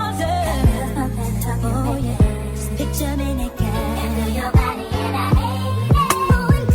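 Sexy drill-style beat intro made in FL Studio, with a booming 808 bass pitched upward under melodic samples, loud and up front, punctuated by gliding low slides and bursts of percussion.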